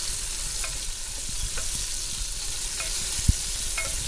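Chicken with noodles sizzles loudly in a hot pan, a steady close frying hiss with occasional stirring scrapes and a single sharp utensil knock.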